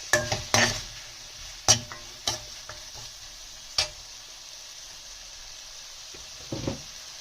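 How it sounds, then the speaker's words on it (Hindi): Tomatoes for a mixed veg handi cook in a pan with a soft sizzle under a handful of sharp spoon-scrapes and clinks against the metal, spaced irregularly. "उसके बाद हम इसमें टमाटर शामिल कर रहे हैं। और टमाटर को हम अच्छे से इसमें पकाएंगे।"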